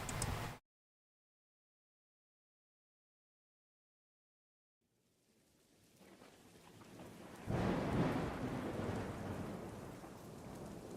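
Heavy rain and thunder in the video game Forsaker, on a barbed-wire swamp training ground. A short burst opens, then silence, and a broad roar of downpour builds back in and swells loud with a rumbling surge.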